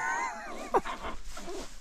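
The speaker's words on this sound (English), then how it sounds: "Is he supposed to be growling?" A dog gives a brief, close, throaty growl with a whiny edge at a hunting camp, rising into a short loud burst before trailing off into quieter rumbling.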